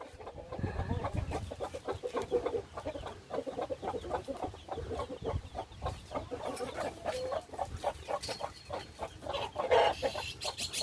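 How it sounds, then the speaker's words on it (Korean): A mother hen and newly hatched chicks clucking and peeping steadily throughout, the hen's low clucks mixed with chicks' high cheeps, close by with no voices. "병아리 또 작은 병아리들이 태어났어"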